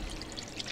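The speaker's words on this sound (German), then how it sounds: "Das Wasser ist wegen uns in Bewegung" Water stirring and trickling in the video game The Medium, a soft continuous pouring wash heard up close and alone for under a second.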